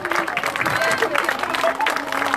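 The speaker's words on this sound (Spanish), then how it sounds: "Un aplauso." A crowd at a Día de Reyes celebration in La Joyita applauds, a dense, lively patter of many hands under scattered voices and cheers, sustained and fairly loud throughout.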